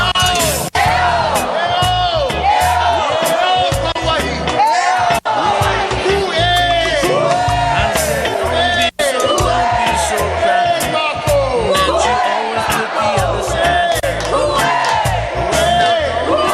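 A large crowd of protesters occupies Honolulu Hale in Honolulu, with loud continuous shouting, whooping and chanting voices blending into a dense, sustained roar.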